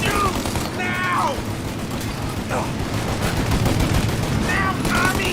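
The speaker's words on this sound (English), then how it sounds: "Shoot up your gun when there's a break in the fire!" Sustained gunfire in a video game shootout in Mafia: Definitive Edition, a dense continuous barrage of shots running throughout with no quiet break.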